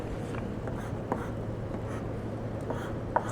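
Chalk or marker strokes on a board while a rocket is sketched during a physics lecture, a soft scratchy scraping with short bursts and small taps, close and steady, with no talking.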